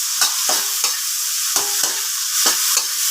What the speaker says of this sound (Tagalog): Nagigisa po tayo ng sayote, sibuyas, bawang, kamatis.